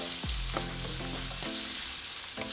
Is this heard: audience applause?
no